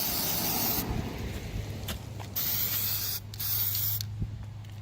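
DEI high-temperature spray paint hissing from an aerosol can in several close, loud bursts with brief pauses between them, coating a boot for a second pass.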